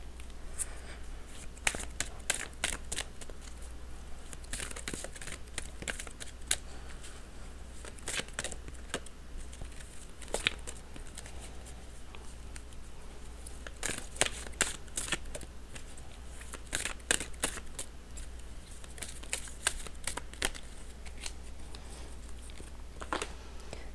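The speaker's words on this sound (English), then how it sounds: "One more deck to shuffle here." Oracle cards are shuffled repeatedly, bursts of rapid riffling and snapping coming in clusters with quiet pauses between, close and fairly soft.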